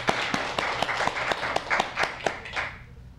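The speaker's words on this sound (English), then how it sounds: "So let's give a great round of applause for Charles Hines." Audience applause at a 1996 poetry reading in a branch library, a steady patter of many hands clapping with sharp individual claps standing out, moderately close and fading away near the end.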